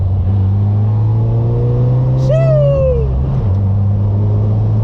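A lowered 1982 Toyota Hilux pickup's engine drones loud and steady, climbing in pitch as it accelerates, then drops briefly on a gear change and continues, heard from close inside the cab with no talking.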